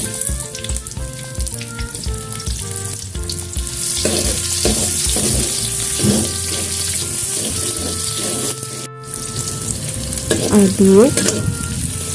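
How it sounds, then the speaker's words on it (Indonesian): Garlic and shallots sautéing in a pan for spicy-sweet fried jengkol, a steady close sizzle with stirring clatter and brief running water, no talk. "Lanjut kita tumis bawang putih dan bawang merah."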